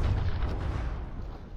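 From the Depths video game battle with heavy frag shells, a deep, rumbling boom of shellfire and explosions that rolls on for a moment before fading.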